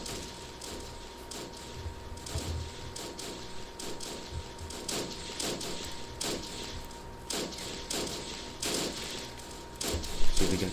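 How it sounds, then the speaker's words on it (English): Artillery and gunfire in the WW1 game Battle of Empires 1914-1918, with Turkish troops attacking ANZACs at the Battle of Krithia: repeated sharp bursts and thumps of fire at fairly low level, sounding like a continuous battle with no one speaking. "they're definitely hitting us with some pretty nasty artillery fire"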